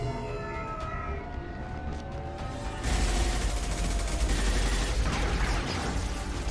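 Gunfire erupts in the game Mass Effect 2, a dense burst of rapid shots breaking in midway after quieter ambient rumble and continuing loudly to the end.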